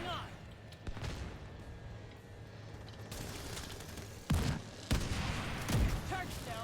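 Gunfire in The Division 2 during Iron Horse raid training, with heavy bursts and booming shots over constant combat noise, several loud impacts close together near the end while a voice talks over the fight.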